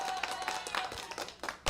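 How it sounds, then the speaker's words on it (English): Studio audience applause for a guest walking to the stage on a radio talk show, a short burst of dense clapping at steady loudness. "How about a round of applause for Mr. Doolin as he makes his way to the st"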